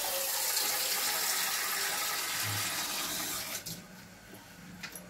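Water poured steadily into a cooking pot while steaming veg momos, a continuous close splashing rush that tapers off near the end into light clinks.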